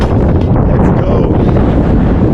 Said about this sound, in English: As you can hear, it's a bit windy up here and cold